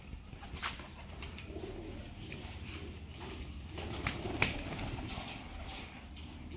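Giribaz pigeons cooing in a cage, soft repeated low coos from several birds close by, with occasional faint rustles and clicks.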